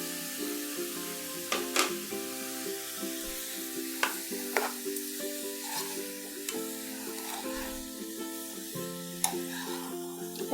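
Half a kilo of grated carrot with a quarter kilo of sugar bubbles and sizzles in ghee in a pan while being stirred for carrot halwa, a steady close simmer broken by several sharp spoon scrapes, with no talk.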